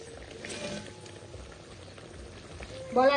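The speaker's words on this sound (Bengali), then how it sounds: "দেখুন বন্ধুরা ঝোলে বলক চলে এসেছে আর আলুগুলো কিন্তু সেদ্ধ হয়ে গেছে।" Chana dal bora curry gravy with potatoes comes to a boil in a pot, a steady low bubbling simmer that carries on evenly, with a brief louder clink near the end.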